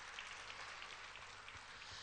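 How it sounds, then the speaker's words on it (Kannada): An audience at a Panchkalyanak Pratishtha Mahotsav religious gathering in Navgarh Tirth Kshetra, Karnataka claps together in a dense, steady wash of applause, faint and distant, with no talk over it. "ಚಪ್ಪಾಳೆ ಹಾಕ್ರೆ ಎಲ್ಲ ಜೋರ್ದಾರ್."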